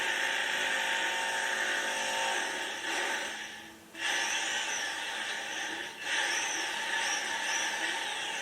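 A power drill whirs continuously with a high, strained tone, briefly cutting out twice before resuming.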